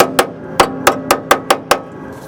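A hammer striking steel on the lower cowl of a 1964 Ford F100 during rust repair: eight sharp, ringing metallic blows at a quick, slightly uneven pace, close and loud.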